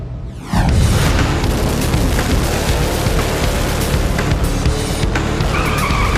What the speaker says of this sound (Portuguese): Em um carro de arrancada que vai de 0 a 160 km por hora em 2 segundos